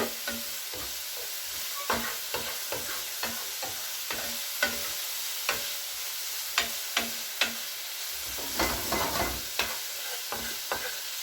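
Tandoori chicken sizzles and fries in a pan while being stirred, with a steady hiss of frying broken by repeated clicks and scrapes of a utensil against the pan, close up and with no talking.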